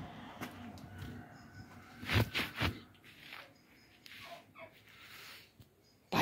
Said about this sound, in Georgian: ბატები